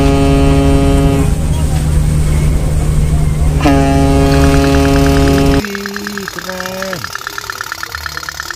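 A small pink toy speedboat found in a creek runs its motor, giving a loud, steady buzzing drone with tonal whines that shift in pitch partway through.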